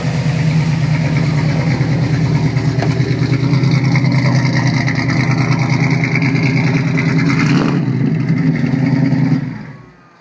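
A Ford Gran Torino's V8 with headers and max flow exhaust rumbles loudly and steadily close by, a deep throaty drone with a brief rev swell near the end before it cuts away.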